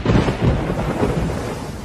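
Thunderstorm with rain on a stormy night in 1982, a steady wash of loud rainfall with low thunder rumbling beneath it throughout, no voices.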